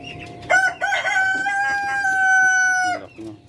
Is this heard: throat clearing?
no